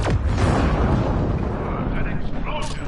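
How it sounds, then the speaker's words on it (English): In Mass Effect Andromeda an explosion booms loud and close, a dense roaring blast that rumbles on with crackling debris and surges of combat noise. "An explosion!"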